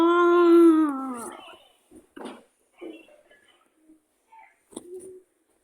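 A single drawn-out dog howl in a train simulator video game, loud and close, fades after about a second, followed by a few quiet scattered knocks and soft sounds.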